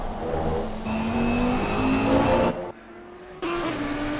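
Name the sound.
race car engine from inside view, Assetto Corsa Competizione video game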